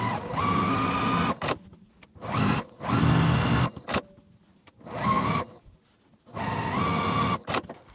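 A sewing machine stitches quilt fabric for a beginner layer cake quilt block in bursts of rapid mechanical whirring, each run lasting about a second or more and separated by short pauses, close and fairly loud.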